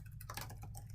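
Keys on a new computer keyboard click in a quick, close burst of several light taps over a low steady hum.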